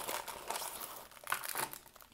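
A shopping bag crinkles close up as it is handled, with soft, irregular rustling crackles that swell and fade across a couple of seconds.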